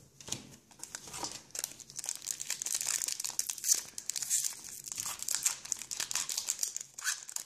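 Crinkling and tearing of a foil wrapper as a Pokémon Platinum Arceus booster pack is opened, a close, continuous rustle with sharper rips throughout.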